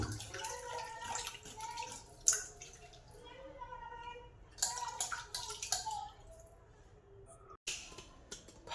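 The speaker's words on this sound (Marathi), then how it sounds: "त्याला पाण्याने धुवून घेतो एकदा" Water runs and splashes over raw chicken as it is washed, in uneven bursts of trickling and spattering with short pauses between them, fairly close.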